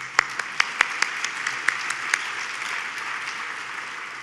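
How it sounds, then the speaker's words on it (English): Applause at a food and beverage industry awards ceremony, a moderate crowd clapping steadily in a large room, with a few sharp nearby claps standing out early before the sound settles into an even patter. "Let's give Kevin a round of applause."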